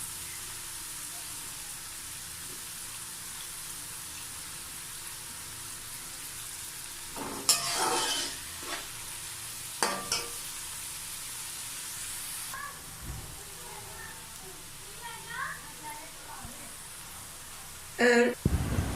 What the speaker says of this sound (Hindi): इसको गोल्डन ब्राउन होने तक हम इसको फ्राई करेंगे।